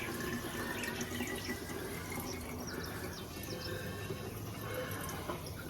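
Water runs steadily as a La Pavoni lever espresso machine is filled to test for a leak, a continuous faint rushing trickle with no talk.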